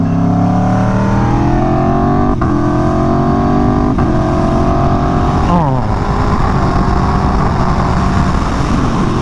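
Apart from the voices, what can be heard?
motorcycle riding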